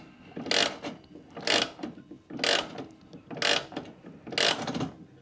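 A mechanical clock being wound: five evenly spaced bursts of rapid ratcheting clicks, close and clear, with no talking.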